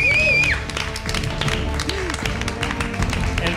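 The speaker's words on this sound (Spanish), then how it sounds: "Un aplauso para David Bizarro, por favor." A studio audience at a Spanish comedy show gives brief applause, a short burst of clapping and taps that thins out quickly as voices come in over it.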